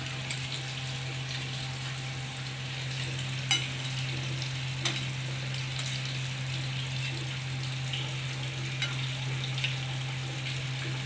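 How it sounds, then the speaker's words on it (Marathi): Sweet Saraswat-style mulake fritters frying in hot oil, a steady soft sizzle with a low constant hum underneath and a few sharp clicks of a utensil, continuous and even throughout with no talking. "भजांसारखं आपण हे तळतोय"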